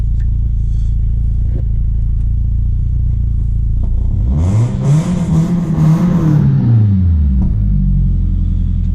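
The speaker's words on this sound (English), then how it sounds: "So it sounds pretty sexy with our custom exhaust. I think the idle's pretty good." A 1993 Nissan 240SX coupe engine rumbles steadily at idle through a deep custom exhaust, briefly revving up in the middle before settling back to a low, even idle.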